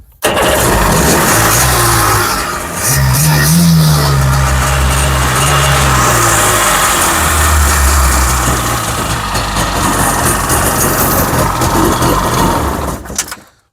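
A carbureted car engine cranks and catches, then settles into a loud, steady idle with a low rumbling throb that lasts throughout, uneven at moments; the carburetor is due for a rebuild and the idle is not yet adjusted.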